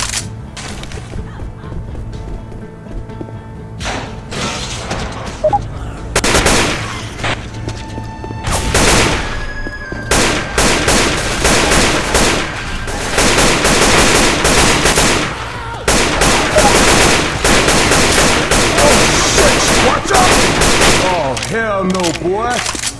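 Sustained gunfire in the zombie shooter Left 4 Dead 2 rattles loudly in rapid bursts and long continuous volleys, with brief pauses between strings of shots.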